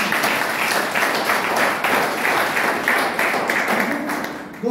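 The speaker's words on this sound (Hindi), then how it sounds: "एक बार जोरदार तालियां इसके लिए।" Audience at a health-awareness event applauds in a steady, fairly close burst of many hands clapping, continuing evenly for several seconds.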